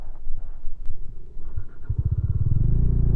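Modified Bajaj Dominar 400 motorcycles pass close by, engines rumbling low with a throaty pulsing exhaust that builds louder toward the end as they approach and rev.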